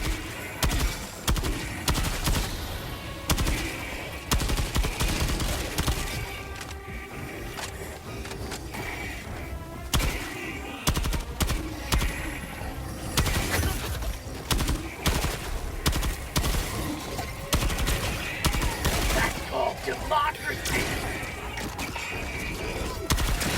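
Repeated gunfire from the Pacifier weapon in the video game Helldivers 2 keeps up across the whole stretch as dense, punchy shots and bursts mixed with other loud game action.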